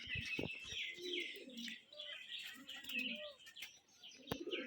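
A large Rajshahi giribaz pigeon coos in soft low phrases close by, with faint chirping from other birds in the background and a few brief thumps.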